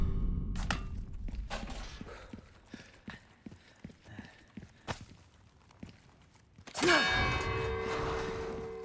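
In the video game Resident Evil 4 Remake, a series of sharp, evenly spaced knocks or strikes, followed by a loud ringing metallic bell clang that sustains and fades.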